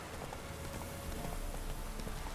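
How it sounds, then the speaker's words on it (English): Steady rain falls throughout a scene in the video game The Witcher 3, a soft, even hiss of drops hitting surfaces, with no talking. "Looks like rain, by the way."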